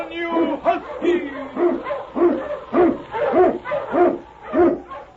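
Eskimo husky sled dogs, led by a lead dog, bark in a radio drama effect, a run of rhythmic yelps and barks about twice a second, fairly close, with an excited shout over them.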